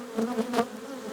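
Honey bees at an open hive make a steady close-up buzzing drone with slight pitch wavering. The drone runs alone without any voices.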